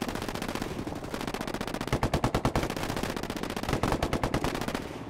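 Rapid automatic gunfire rattles in Ghost Recon Wildlands, bursts of closely spaced shots at moderate distance, loudest in two clusters with steady firing between them and no talking.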